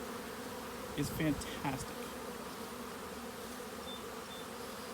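Honey bees swarm around hives in a bee yard after a day of rain, making a steady, close, dense buzz throughout. Someone speaks briefly over it near the start.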